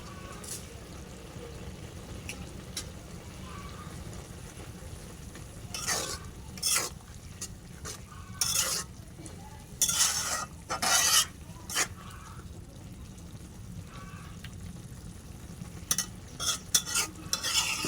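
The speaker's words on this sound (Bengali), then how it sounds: "দিয়ে দিলাম একটু পেঁয়াজ আর জিরা বাটা একসাথে" Onion and cumin paste fries in a pan, a low steady sizzle broken by bursts of spoon stirring and scraping that cluster in the middle and again near the end.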